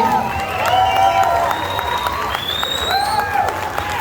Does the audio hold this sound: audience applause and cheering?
yes